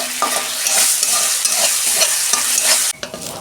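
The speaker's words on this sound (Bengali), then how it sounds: "আদা রসুনের পেস্ট দিচ্ছি 1 চামচ। ভালো করে আমি কষাবো।" Onions and ginger-garlic paste stir-fried in a pan give a loud, steady sizzle broken by repeated spatula scrapes. It cuts off sharply near the end, leaving quieter stirring.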